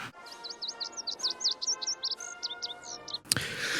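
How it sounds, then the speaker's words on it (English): Birds chirp in a film scene, a quick series of bright, repeated tweets running steadily from start to finish, with a sharp louder burst near the end. "set to the sound of birds chirping and the French national anthem"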